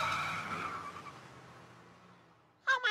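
A cartoon car's tires screech as it speeds off, a loud squeal fading into the distance over a couple of seconds, followed by a brief burst of voice.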